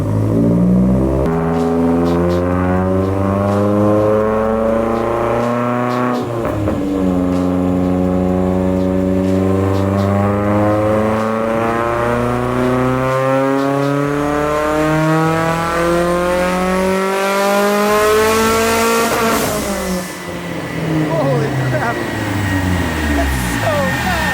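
A Mitsubishi Evo engine revs hard on a dyno, loud and close, its pitch climbing through long sweeping pulls with brief drops between gears, a sharp backfire crackle near the end, and voices talking underneath.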